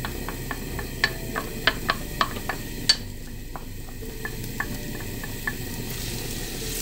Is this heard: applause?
no